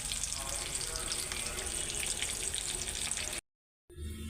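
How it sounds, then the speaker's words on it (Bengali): Fish frying slowly in oil over a low flame, a steady close hiss and crackle that runs without a break before cutting to silence and then a fainter sound. "তো চুলার আঁচ কমাই দিয়া একটু আস্তে আস্তে ভাজবো"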